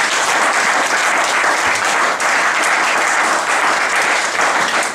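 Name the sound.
congregation applauding in church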